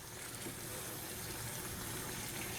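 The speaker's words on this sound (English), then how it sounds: "Just washing my bay leaves just because they're from the garden." Tap water runs steadily over garden bay leaves being rinsed, a continuous close gushing rush throughout with no other sounds.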